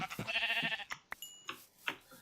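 A sheep bleats in the Minecraft video game, one wavering quiet bleat followed by a few soft clicks and ticks, with no talk.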